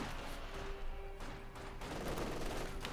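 Machine gun fire sounds in a Company of Heroes 2 battle between Wehrmacht and Soviet forces, a faint, distant rattle mixed into a dense battlefield din of overlapping shots.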